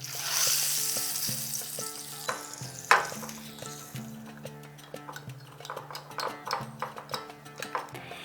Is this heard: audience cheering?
no